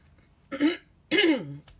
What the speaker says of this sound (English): finally clearing my throat